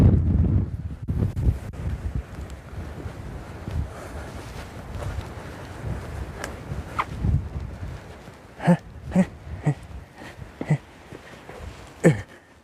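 Gusty wind buffeting the microphone on Coombestone Tor, a low rumbling roar that rises and falls, with faint footsteps and breathy noises near the end.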